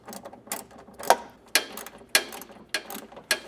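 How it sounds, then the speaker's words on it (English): Repeated ratcheting clicks from a hand ratchet with a 10mm socket tightening a carriage bolt, quick bursts of ticking at a steady rhythm roughly every half second, close and fairly quiet. "we'll take our ratchet and 10mm socket,"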